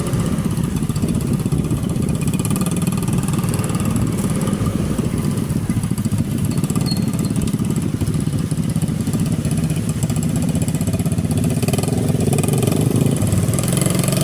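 A Suzuki Neptune motorcycle engine runs steadily and loudly up close on a road ride, a continuous rumbling drone with slight shifts in pitch throughout.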